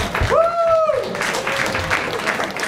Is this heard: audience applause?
yes